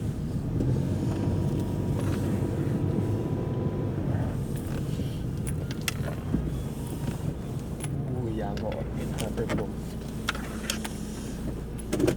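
A car with a left-hand-drive steering wheel idles while warming up in minus 12 degree cold in Korea, a steady low engine rumble with wind buffeting and scattered clicks, and someone talking over it.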